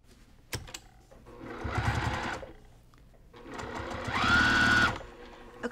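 A sewing machine stitches a zippered cross stitch pillow in two close, steady whirring runs separated by a brief pause, the second louder and longer, with no talk over it.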